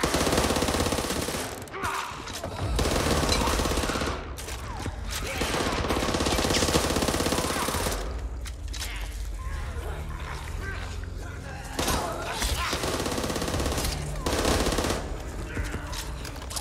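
Gunfire in the co-op zombie shooter Back 4 Blood, sustained loud automatic bursts and overlapping shots with brief pauses, running almost the whole time under game noise and talking.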